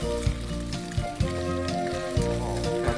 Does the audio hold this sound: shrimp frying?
yes